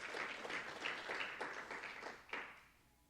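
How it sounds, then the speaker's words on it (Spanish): Congregation at a Friday evening church service breaking into applause, a dense steady clapping from many hands that swells and fades over a few seconds, with no talk over it. "Denle un aplauso al Espíritu Santo, los que han disfrutado del amor de Cristo."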